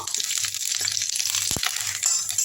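Curry leaves frying in a pan, a continuous bright sizzle and crackle at close range with a few louder pops, and no talking over it.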